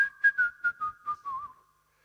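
A person whistles a short wavering tune, imitating a woman whistling in church: about seven quick chirpy notes sliding gently downward, close and clear, then trailing off into silence.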